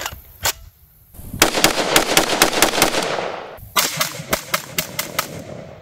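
Shots from an FN FS2000 rifle chambered in 5.56 crack out one after another at a shooting range, a single report followed by two rapid strings of loud, sharp blasts with ringing decay between them.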